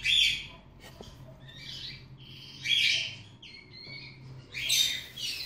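Recently hatched 14-day-old bird chicks in a nest being cleaned give repeated bursts of high, squawky chirps, four or five distinct calls at close range over a low background hum.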